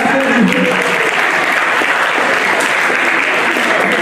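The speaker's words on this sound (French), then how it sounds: "Applaudissez l'église, s'il vous plaît." Dense, steady applause from an audience at a live children's Haitian history quiz challenge in Paris, filling the whole stretch at a loud, even level with faint voices mixed in.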